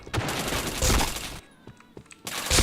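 Rapid bursts of gunfire from a shooting video game crack loudly and close, with a brief lull of scattered single shots before another heavy volley.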